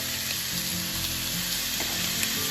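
Olive oil frying in a cast iron pan gives a steady, dense sizzle that holds without a break, close and fairly loud, with a few faint clinks under the hiss.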